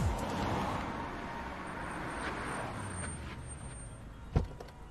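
Steady low rumble of idling and slowly creeping cars in a jammed Mumbai street, a continuous roadside wash with a faint high whine and a short thump near the end, no talk heard.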